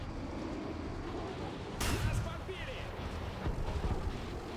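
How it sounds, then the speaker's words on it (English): A gunshot cracks behind the player in a Soviet-themed shooter game, a single sharp blast with a rumbling tail over steady background noise while people talk. "Did someone just shoot behind us?"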